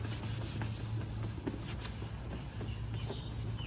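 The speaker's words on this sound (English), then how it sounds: "I'm gonna go ahead and just kind of wipe it with a" Close, steady rubbing and scuffing of a towel wiping a headlight surface, repeated wiping strokes with no talking.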